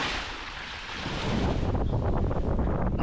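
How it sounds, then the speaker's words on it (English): Wind and waves buffet a sailboat nearing Freeport Harbor, Old Bahama Bay, in rough, building seas: a continuous loud rushing roar of gusts and surf with low rumbling wash and microphone buffeting. "the waves were starting to get bigger, making for much more challenging sailing conditions"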